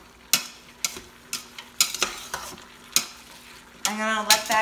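A utensil scrapes and knocks rhythmically against a pan as browned meat with onion and garlic is stirred, with a soft sizzle underneath and a louder burst of frying toward the end.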